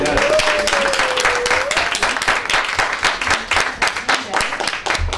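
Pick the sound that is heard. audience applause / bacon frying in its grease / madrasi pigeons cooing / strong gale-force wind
audience applause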